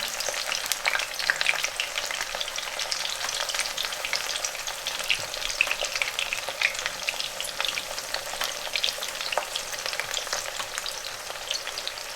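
Steady, crackling sizzle of aubergine slices frying in hot oil for masala yoghurt aubergine, close up and continuous with dense spitting pops throughout and no talking.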